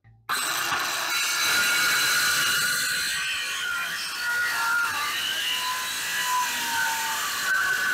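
A cordless circular saw cuts lines into a 4x4 wooden post, producing a loud continuous whine and rasp. The pitch dips and shifts as the blade moves through the wood, with no talk.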